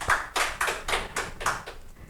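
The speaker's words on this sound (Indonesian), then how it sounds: "Beri tepuk tangan, guys." A small group claps at an ambassador selection event in Jepara, giving about six or seven distinct, evenly spaced hand claps, close and fairly soft, with no talking.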